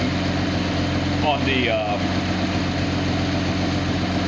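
A Nissan 280ZX L28 inline-six engine idles steadily on a test stand, fitted with a narrow band oxygen sensor, giving a constant close rumble while someone talks over it.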